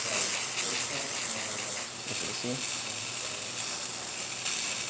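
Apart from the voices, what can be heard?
DeLonghi La Specialista espresso machine steam wand steaming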